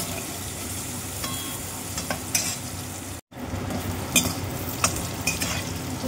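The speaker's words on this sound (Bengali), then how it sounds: "এর মধ্যেও দিয়ে এবার সয়াবিনটাও ভালো করে ভাজা করে নেব" Soybean chunks frying in oil with turmeric, a dense continuous sizzle with stirring scrapes and a brief cut in the middle.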